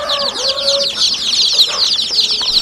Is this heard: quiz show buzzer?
no